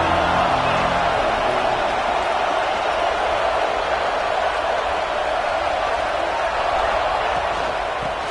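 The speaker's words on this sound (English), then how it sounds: "This crowd bringing the energy and noise early." A college football stadium crowd keeps up a steady, loud roar of massed voices and cheering early in the game. The wash of sound stays dense and unbroken throughout.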